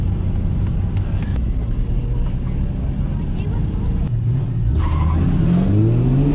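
Drift cars on a Formula Drift track, led by a Mustang in a tandem run, roar at full throttle with engine revs rising and tires hissing in a skid, loud and continuous, while voices talk over the noise.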